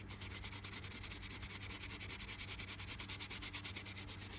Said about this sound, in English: You just brush it. Give it a little bit of pressure, not too much.